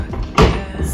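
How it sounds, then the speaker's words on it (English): A window in a bedroom of a French apartment closes with a single firm thud partway through, a brief burst of rattle and rumble standing out from quiet room tone. "let me just close this window so we still get this gorgeous"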